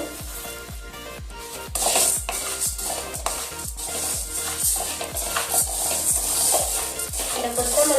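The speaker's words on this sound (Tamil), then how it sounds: "லேசா இப்படி வெடிக்கிற சத்தம் கேட்டு பாருங்க" Spices for rasam powder roasting in a pan, crackling and popping in quick sharp bursts over a steady sizzle as they are stirred, close and fairly loud.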